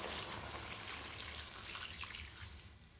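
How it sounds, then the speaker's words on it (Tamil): Soft, steady splashing and trickling of water being poured into a pan of chicken gravy, close and fairly quiet, lasting the whole stretch. "தண்ணி சேர்த்துக்கலாம்"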